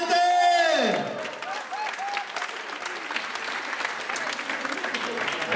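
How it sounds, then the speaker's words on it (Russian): A crowd at an Italian-themed party breaks into loud, sustained clapping that rattles on steadily after a voice finishes calling out. "аплодисменты!"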